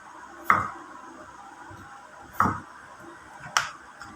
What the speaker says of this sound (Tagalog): Hiwa tayo ng bawang.